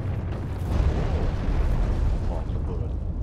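A deep, rumbling explosion in Dark Souls 3: Ashes of Ariandel roars continuously, heavy low-end boom with rough crackling texture, loud and close.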